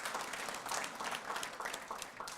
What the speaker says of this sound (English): So everybody, please give a round of applause for yourselves